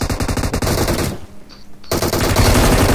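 Automatic gunfire in the battle royale game BGMI, loud rapid bursts at close range that break off briefly midway, then resume in dense repeated volleys.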